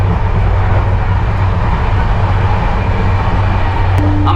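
Steady loud rumble of the moving Kanchankanya Express long-distance train heard from inside a carriage, continuous low clatter and hum filling the whole stretch with no talking.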